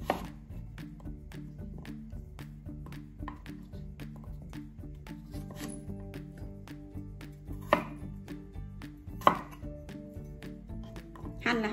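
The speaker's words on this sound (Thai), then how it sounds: "ปอกทําความสะอาดแล้วเฮาล้างแล้วเฮาก็เอามาหั่นจ้า" Knife chopping peeled taro on a cutting board for a Thai sago dessert with young coconut, steady rhythmic close-up thuds at an even pace with a couple of louder strikes.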